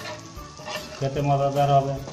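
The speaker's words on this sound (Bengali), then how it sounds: "চিংড়ি মাছটা একটু ভালো করে ভেজে নিতে হবে" Shrimp sizzling in a hot pan, a crackling hiss that runs through the whole moment while someone speaks over it for the second half.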